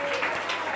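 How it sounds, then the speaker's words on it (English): A church congregation claps hands during a praise and worship service in a brief burst of applause, mixed with voices. "Somebody just clap those hands and give God a praise."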